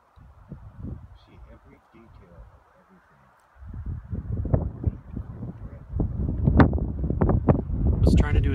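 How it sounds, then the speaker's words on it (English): Strong wind gusts roar across an outdoor microphone on a roadside, building from moderate buffeting to loud, sustained rumbling with sharp gust peaks toward the end. "Time lapse, but it's too windy."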